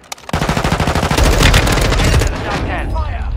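Rapid automatic gunfire in Call of Duty Warzone, a loud sustained burst of fire with blasts layered over it, fading toward the end with some faint speech.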